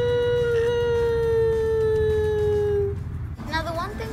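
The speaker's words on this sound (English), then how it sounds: "they start to howl." Wolves in The Jungle Book film howl together in one long, sustained, slightly falling tone that carries for about three seconds before fading into other film sound.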